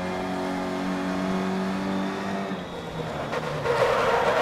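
A rally car in a racing video game loses grip and spins on gravel, its engine droning loudly with shifting revs, then gravel scraping and a rising rush near the end.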